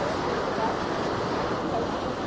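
A strong current rushes through a stream in Occidental Mindoro, giving a dense, steady roar that sounds close and a little like wind.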